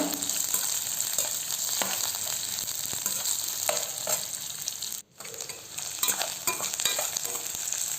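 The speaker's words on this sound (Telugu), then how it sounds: "ఈ ఆనియన్స్ అంతా కొద్దిగా దోరగా వేగేంతకు వేయించేసుకుందాం" Onions fry with dried red chillies in a pan for a drumstick leaves dish, giving a steady, close sizzle with occasional stirring scrapes and a brief drop in the noise midway.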